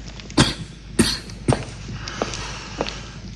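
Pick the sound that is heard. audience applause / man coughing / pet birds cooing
man coughing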